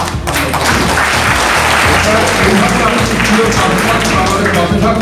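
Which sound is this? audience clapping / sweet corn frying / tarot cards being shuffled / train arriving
audience clapping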